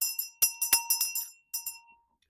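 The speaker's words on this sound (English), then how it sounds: "Mrs. Claus rang the bell" A small bell rings in a quick series of bright, clear strikes, about eight close tinkling hits with a short pause before the last few, ringing out alone in silence.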